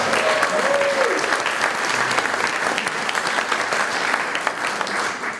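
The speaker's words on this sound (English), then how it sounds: "deserves a second round of applause" Sustained applause from an audience at a Phoenixville community gathering, dense steady clapping filling the room, with a faint voice briefly audible early on.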